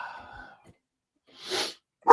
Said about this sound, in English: Sorry, the dogs are losing their fucking minds right now.